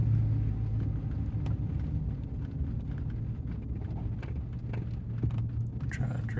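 A vehicle creeps slowly along a wet dirt road, giving a steady low rumble of engine and tyres with faint crunches and bumps, close and without talk.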